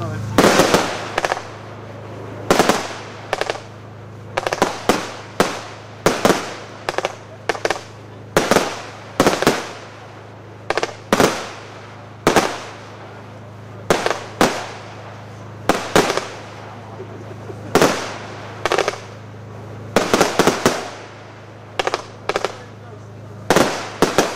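A fireworks barrage cake fired at an angle at a demo event, letting off a rapid series of sharp, loud bursts and cracks at irregular intervals, with faint crowd murmur between shots.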